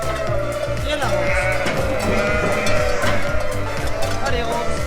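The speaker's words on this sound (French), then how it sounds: "c'est pas mal bruyant, tout simplement parce que les brebis elles cherchent leurs agneaux." Ewes bleating in dense overlapping calls while searching for their lambs, a loud, close flock chorus with repeated wavering cries throughout.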